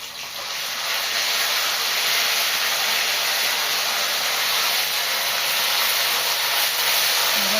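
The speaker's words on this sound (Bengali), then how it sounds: "তেল গরম হয়ে গেছে এবার তেজপাতা আর গোটা গরম মশলা ফোড়ন দিয়ে দিলাম" Bay leaves and whole garam masala spices hit hot oil and sizzle, a loud, steady, hissing fry that rises at the start and then holds evenly, close up with no talking.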